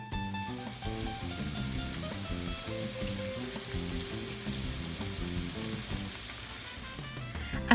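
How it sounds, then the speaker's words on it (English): Shrimp frying in olive oil in a pan, a steady close sizzle lasting throughout, with music playing underneath and a brief knock at the very end. "We'll add the shrimp and spread it evenly, and we're going to let it cook for about 2 minutes."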